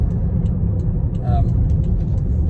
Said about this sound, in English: I just want to do a quick acceleration test joining the A30, because this is where you appreciate how quick this car is, and also what a beautiful sound it makes